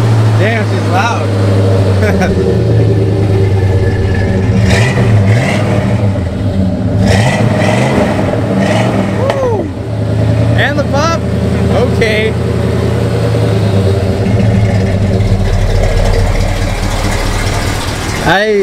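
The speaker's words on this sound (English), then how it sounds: "it's like really hard to beat the sound of these kinds right, of trucks" A loud truck engine alternates between deep revs and a rumbling idle close by, running steadily throughout while people talk over it.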